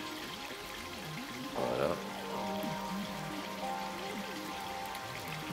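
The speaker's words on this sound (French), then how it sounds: "je vais utiliser un arrosoir très très fin. Et là, j'arrose en ligne, comme ça." A very fine watering can sprinkles water in a line over freshly sown French marigold seeds, a soft steady patter of spray lasting the whole stretch, with a brief word spoken partway through.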